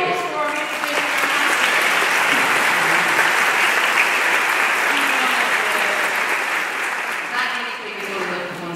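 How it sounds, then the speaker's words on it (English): Live stage-show audience bursts into sustained applause, a dense wash of clapping that holds steady for several seconds before tapering slightly near the end, with voices mixed underneath. "Big round of applause for him."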